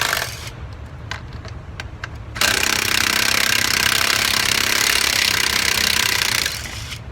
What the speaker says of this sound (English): we're going to use our 10mm socket and driver and remove these 2 bolts on the side cover